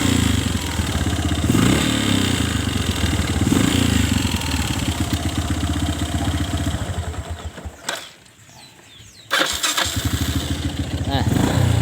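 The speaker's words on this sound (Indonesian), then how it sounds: "kalau gas saya geber langsung saya lepas gas, suaranya sangat keras ya, adanya di dalam suara mesin sini" A Kawasaki motorcycle engine is revved hard and then released, giving a loud, rough, throbbing exhaust roar. It drops off briefly near the end and then surges back, with a voice talking faintly underneath.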